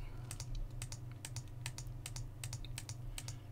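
Computer mouse clicking rapidly and repeatedly at a steady rhythm, close and crisp over a low constant hum.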